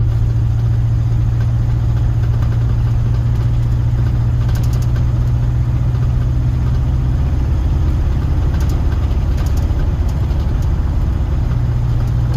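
A square body Chevy project truck engine runs steadily through first and second gear, a loud continuous low rumble with little change in pitch, close to the microphone and with no talking.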